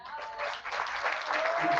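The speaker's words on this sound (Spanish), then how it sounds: "Un aplauso para mi compañero." Audience applause at a talk: a short burst of many hands clapping, moderately distant and fairly quiet, with a faint voice briefly audible underneath.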